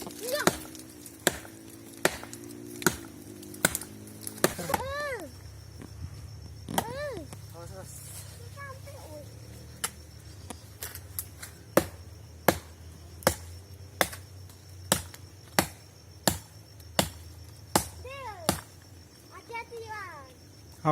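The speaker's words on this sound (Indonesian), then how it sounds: "maka dipotong saja dengan menggunakan parang" A machete chops at an orchid in a coffee garden, with sharp, regular strikes landing roughly every second across the stretch, fairly close, while insects or birds chirp in the background.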